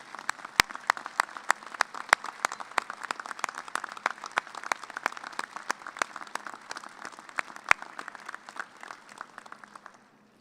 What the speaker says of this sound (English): Graduates, please acknowledge with a round of applause your family and friends